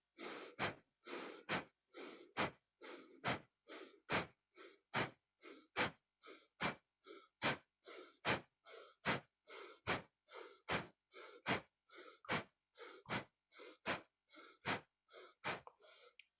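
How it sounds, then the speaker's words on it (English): Quick, rhythmic breaths in and out through the nose during a guided breathing exercise, a steady train of close, sharp sniffing inhales and exhales repeating roughly twice per second with no talking. "inhaling and exhaling through your nose. So get ready and just do a couple times. So breathing in and breathing out faster."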